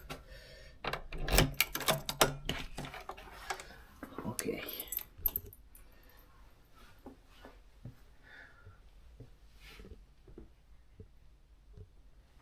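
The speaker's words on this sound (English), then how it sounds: "let me get the keys" Keys jangle loudly as a door is unlocked at a house in Tuscany: a burst of close metallic rattling and clicks early on, then scattered lighter taps and knocks fading out, with a brief spoken word.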